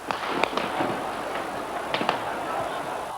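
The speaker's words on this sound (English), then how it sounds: "The noise of gunfire rose from all over the center of Peking." Gunfire crackles across central Peking as scattered sharp pops and cracks, fairly distant and irregular over a constant background rumble.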